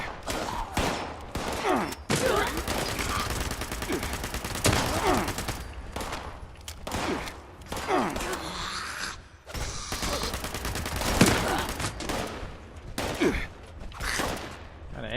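Gunfire from the video game Fallout 76 rattles in rapid, loud bursts across fifteen seconds, with short pauses, mechanical clicks and ratcheting between volleys, heard up close.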